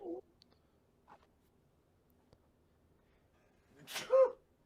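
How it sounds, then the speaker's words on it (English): A single sharp sneeze bursts out near the end after mostly quiet moments with a couple of faint vocal sounds. "Man, I'm sneezing."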